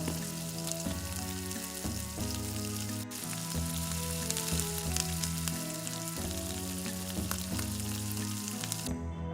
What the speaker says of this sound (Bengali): আলুগুলো দিয়ে পরিমাণ মতো নুন আর হলুদ গুঁড়ি দিয়ে ভালো করে হালকা লাল করে ভেজে তুলে নেব।